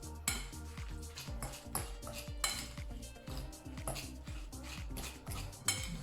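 A spoon scrapes and clinks steadily against a bowl while tuna croquette mixture bound with eggs is stirred, with quick repeated strokes at close range and no talking.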